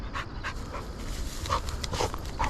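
A hunting dog pants steadily and close by in a dove field, rapid breaths repeating throughout amid outdoor background noise.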